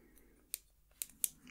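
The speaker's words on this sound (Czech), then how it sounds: "Tady nachystám své nůžky" Hairdresser's scissors handled at a salon chair: three crisp, quiet metallic snips spaced about half a second apart, close and alone against near silence.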